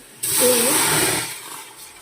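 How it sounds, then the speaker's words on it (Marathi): A sudden rush of water pouring steadily into a large pot, a loud hissing splash that eases off slightly toward the end. "अशा प्रकारे मी दीड पातेलं पाणी घातलं आहे"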